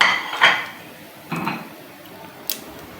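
Cumin and spices are stirred in a cooking pot for masala vegetable khichdi, with a few separate spoon scrapes and light metallic clinks against the pot over a quiet background.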